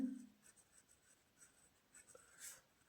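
A pen or marker writes numbers for a school maths factoring problem, giving faint, soft scratching strokes in a quiet room with no talking.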